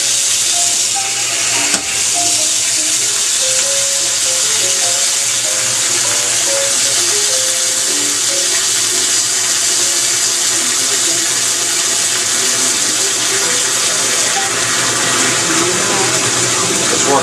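Water rushes from a hose into a 2000 Sears Kenmore washing machine as it fills, a loud, steady hiss and splash throughout, with a faint voice and a brief knock near the start.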